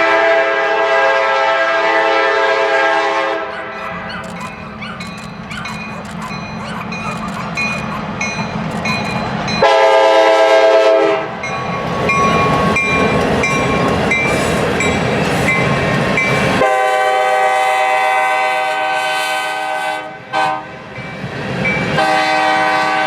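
A Kansas City Southern local freight, the Marble City Dodger, rolls past loudly and close, its air horn blaring in long sustained blasts over the rumble of the train, with breaks and shifts in tone as the horn sounds repeatedly.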